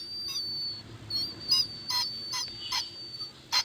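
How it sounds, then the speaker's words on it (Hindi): A car's radiator coolant reservoir gives off a thin, high whistle that runs steadily and is broken by several short, sharper chirping bursts at irregular intervals, heard close by. "एक सीटी की आवाज़ ये देखें आ रही है, ठीक है, जैसे टी टी ऐसे पी पी की आवाज़ आ रही है।"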